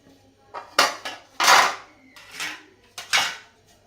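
Metal plates being greased with oil for dal baati clink and scrape against each other in a handful of short, close clattering bursts, with quiet gaps between them.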